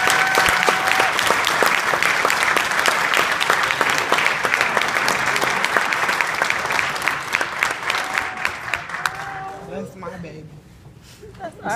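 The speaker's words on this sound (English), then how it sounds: "Please give a round of applause for..." A school awards audience applauds a student with loud, dense clapping for about nine seconds, then the clapping thins into scattered claps and fades out.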